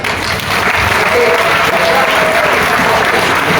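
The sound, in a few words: audience applause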